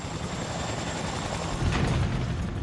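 A helicopter straining to climb, its rotor and engine noise a dense, continuous drone that swells briefly toward the end.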